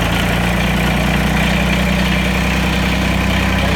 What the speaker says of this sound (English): so now the tractor started